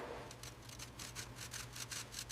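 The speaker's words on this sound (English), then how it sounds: "I'm scraping off this heavy grease on the jaw." Heavy grease being scraped off a metal jaw during restoration of a large machine: a steady run of close, rhythmic rasping strokes, roughly a dozen quick scrapes in succession over a low background hum.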